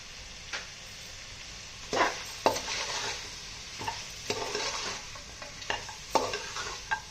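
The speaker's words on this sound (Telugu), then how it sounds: "బాగా ఫ్రై చేసుకోవాలండి దీన్ని" Chilli powder, salt and spices for a mixed chicken, mutton and prawn biryani fry in a pan under a soft, steady sizzle. Irregular spoon scrapes and clinks against the metal break through the frying, fairly close.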